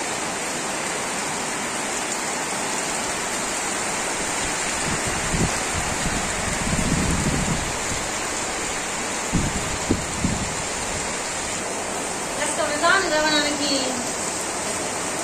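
Steady hiss of rain falls on a village throughout, with a few low knocks and some quiet speech near the end.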